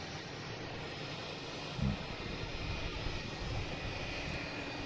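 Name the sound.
jet airliner passing near airport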